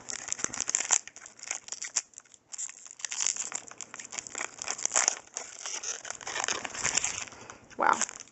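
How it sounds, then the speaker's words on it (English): Magic: The Gathering card packs from a fat pack are torn open, giving close, irregular crinkling and crackling of foil wrappers with brief pauses between rustles. "this takes a lot of time to open up these card things"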